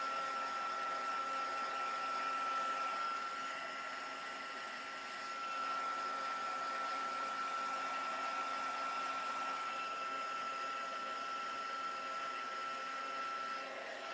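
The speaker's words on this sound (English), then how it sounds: "I'm going to just heat emboss just to get it, to make sure that the ink's dry" A heat gun blows steadily while heat embossing ink on a craft project to dry it, giving a continuous airy whir with a thin high whine, fairly faint and unbroken throughout.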